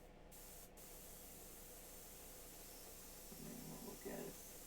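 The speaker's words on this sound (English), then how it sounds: "I'm spraying off camera just because." Primer spray from a can hisses in a continuous, broad wash as a miniature is coated, off at a distance and faint, with a short pause near the start and a few quiet sounds near the end.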